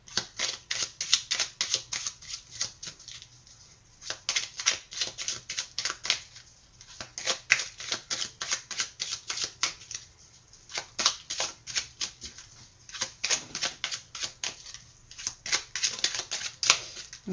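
A deck of tarot cards being cut and shuffled, giving quick rippling riffles and flutters in repeated bursts with short pauses between, close and crisp.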